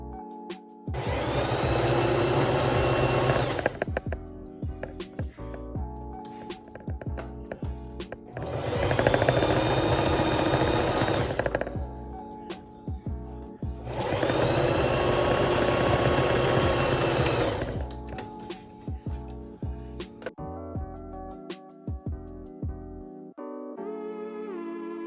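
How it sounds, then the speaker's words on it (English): A sewing machine stitches the thumb tip of a Spider-Man costume glove to its base, running in three sustained bursts of steady motor hum separated by short pauses, then stopping near the end. "first sewing the thumb tip to the base"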